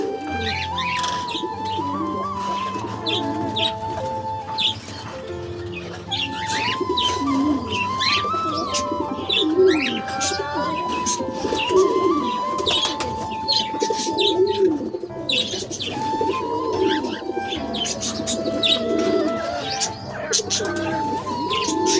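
Cockatiels call and chirp continuously during a morning feeding, layered with cooing and tweeting from other nearby birds, a busy, steady aviary chorus with no talking.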